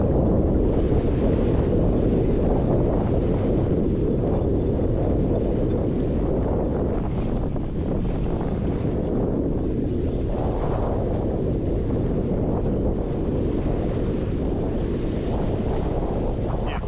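Strong steady wind roars over a sailboat running fast in 13 knots of breeze off Antigua with double-reefed main and headsail, a dense continuous rush with water wash beneath, loud and unbroken throughout.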